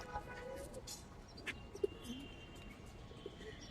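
Silver gribaz coloring pigeons give soft, faint coos and a few brief chirps over a quiet background.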